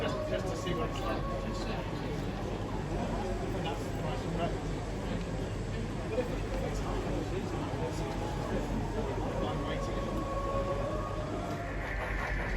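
A model railway passenger train arriving at a station at a model railway exhibition: a steady, low rumbling run of the small train under continuous crowd chatter, moderately loud throughout with no clear pauses.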